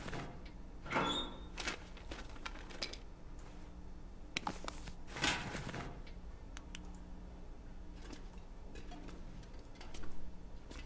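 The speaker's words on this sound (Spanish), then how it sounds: "Vamos a abrir taquilla." A metal locker in The Long Dark swings open with a few dull clacks and a scraping rattle, faint and close, followed by scattered small ticks against a quiet background.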